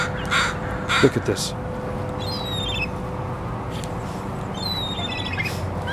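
Crows caw loudly and repeatedly close by while seagulls squabble over thrown crackers, harsh calls arriving in bursts over steady outdoor background noise, with a person speaking briefly.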